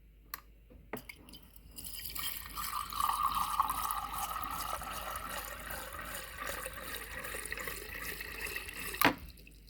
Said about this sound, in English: You fill up your mocha pot with water.